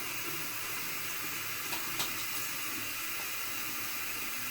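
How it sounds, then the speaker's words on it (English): Water runs from a sink tap as hands are wetted, a steady broad hiss and splash with a couple of faint clicks. "the first thing I'm going to do is get my hands wet"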